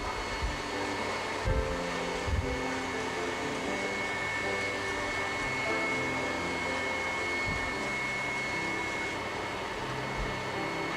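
Electric mixer whipping egg whites toward meringue for a chocolate dessert, a steady whirring drone that runs the whole time with a few brief knocks, close by and with no voices.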